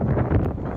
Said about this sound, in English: If you can hear the wind on this video, I'm sorry, but it is what it is.